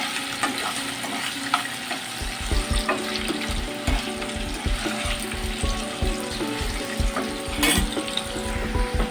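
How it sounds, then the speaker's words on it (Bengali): Paneer cubes sizzle in hot oil in a pan, with a soft crackling fry running throughout and repeated low knocks and stirring clatter as the pieces are added and moved about. "পনিরগুলোকে দিয়ে দিচ্ছি, দিয়ে অল্প অল্প করে পনিরগুলোকে ভেজে নেব।"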